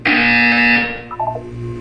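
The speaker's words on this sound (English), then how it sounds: "You will hear a buzzer." A loud electronic buzzer inside a Portal 2 test chamber sounds as one steady, harsh tone for about a second, then fades into brief warbling chirps over a low hum.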